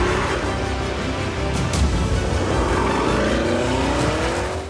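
A Porsche Cayenne Turbo GT SUV engine revs hard and accelerates, loud and close, its rising engine note climbing steadily with a brief tire squeal early on and no talking.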